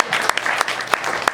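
Audience at a comedy show in a Seattle brewery clapping hands in a short burst, with sharp individual claps ringing out over a steady patter of applause.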